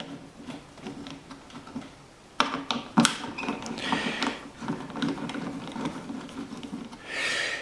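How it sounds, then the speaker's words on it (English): A screwdriver works four Phillips screws out of the top of a guitar amplifier chassis, giving scattered small ticks, clicks and ratcheting scrapes of metal that grow busier midway through. "next I'm going to remove these 4 Phillips screws here on the top"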